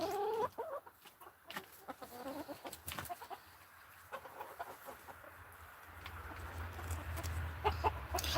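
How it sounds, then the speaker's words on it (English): Hens on a small farm clucking in scattered, irregular bursts, fairly close, with brief rustling and a low background hum toward the end; no speech. "I like the d'Yonk type chickens."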